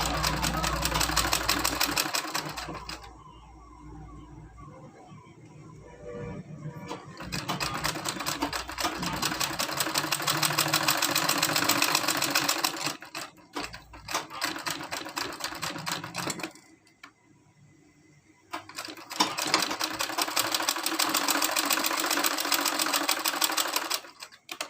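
Sewing machine stitching fabric for a handmade bra, running in several bursts of rapid mechanical clatter separated by short pauses, with a voice speaking between and over the runs.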